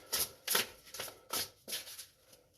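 A deck of oracle cards being shuffled by hand in quick riffling bursts, about five rustling passes in steady rhythm, close and fairly quiet with no talk.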